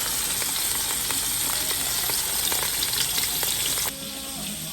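Chunks of bacon fry loudly in a pot of feijoada with beans and carne seca, a dense, continuous crackling sizzle close up, peppered with small pops and dropping slightly quieter near the end; no voices.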